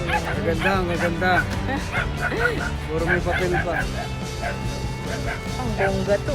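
A French Bulldog at a pet market in Bocaue, Bulacan barks and yips in quick repeated bursts close by, mixed with whimpers and other animal noises while people talk nearby.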